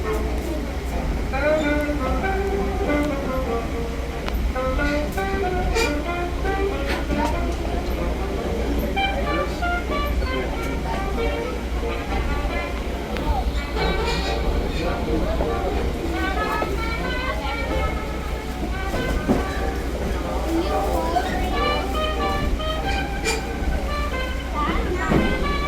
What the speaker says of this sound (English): As we continue to roll along the branch, let's talk about the locomotive that's shoving our train